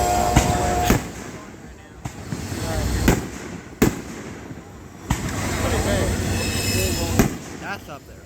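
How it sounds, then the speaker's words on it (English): Train rolling past during a fireworks show, wheels squealing in long sustained tones under repeated sharp firework bangs and crackles, with voices talking over it. "I can hear the train."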